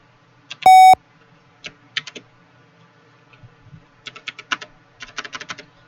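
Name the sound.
computer keyboard typing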